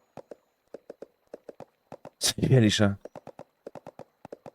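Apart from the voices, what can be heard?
horse hooves clip-clopping in Storm Horse Simulator video game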